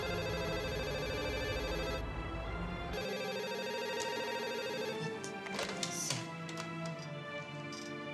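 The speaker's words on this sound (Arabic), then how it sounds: "ثانيه اهو التليفون بيرن." A telephone rings in a room amid a tense film scene, its tonal ringing steady and close over layered background music for several seconds, with no talk.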